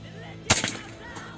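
One crisp shot from a Satsus P1000 air rifle fired during pre-delivery hunting tests, a sudden loud snap up close with a short reverberant decay and a few softer echoes after.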